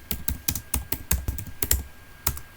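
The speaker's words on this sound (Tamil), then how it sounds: "இங்கே மேப்பில் நான் ஒலிம்பியா டெக் பார்க் சென்னைன்னு வந்து டைப் பண்ணிக்கிறேன்." Keystrokes on a computer keyboard as a place name is entered into a map search, a quick irregular run of close, crisp clicks with short pauses, no voices.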